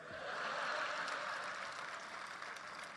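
An audience claps steadily throughout at a kavi sammelan poetry recital held at Rajpath Club, Ahmedabad, a sustained moderately loud wash of applause from a crowd.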